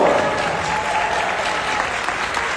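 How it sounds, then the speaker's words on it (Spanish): An audience at a doTERRA convention health symposium breaks into steady, loud applause, a thick continuous clatter of many hands lasting throughout. "Sí, un aplauso"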